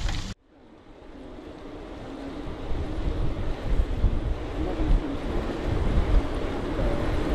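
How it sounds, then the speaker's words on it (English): Cold night wind in the New Forest buffeting a microphone during a winter gravel ride, a loud, rough, continuous roar that swells after a brief opening cut, with no talk. "That wind's certainly cold."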